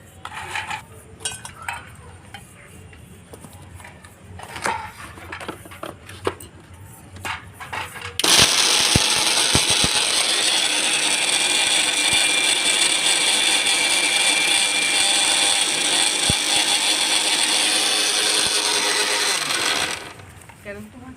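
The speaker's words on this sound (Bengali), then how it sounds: "হ্যাপি হ্যাপি বিস্কুটগুলো মিক্সিতে দিয়ে গুঁড়ো করে নেবো" Happy Happy biscuits grind to powder in a kitchen mixer grinder. After some quiet clinks and handling, the motor starts abruptly, whirs loudly and steadily for about twelve seconds, then stops.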